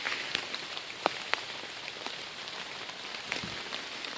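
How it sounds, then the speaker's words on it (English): Rain falls in a wooded area, a steady soft hiss broken by scattered sharper drips and patters hitting nearby surfaces, quiet and close, with no voices. "it's definitely raining now"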